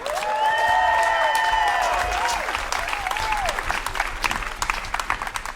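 A concert crowd applauds and cheers loudly and steadily, with whoops and shouts rising over dense clapping that gradually thins out.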